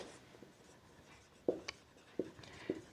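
Chalk or marker strokes on a classroom board during a commerce lesson: three or four sharp, separate taps and scratches against a quiet room, with no talking.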